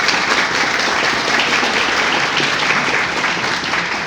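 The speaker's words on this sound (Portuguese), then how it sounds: "Uma salva de palmas, pessoal." An audience at the opening of a university philosophy week welcomes a new professor with loud, continuous applause, a dense wash of many hands clapping close by.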